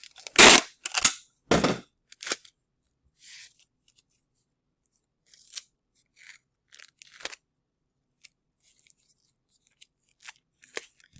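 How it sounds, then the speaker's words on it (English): Packing tape is pulled and pressed along all four sides of a card mailer for shipping sports cards. A few sharp, loud tearing rips come at the start, followed by scattered quieter crinkles and taps with no talking. "And then I want to tape all 4 sides."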